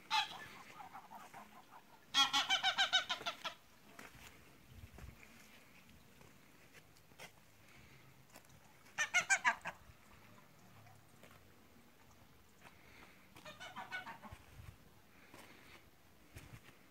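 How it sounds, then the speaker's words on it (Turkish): Geese honk outdoors near a farmyard in three loud separate bursts of rapid, harsh calls, with quiet stretches and faint background noise between them. "Kazlar da dışarıda."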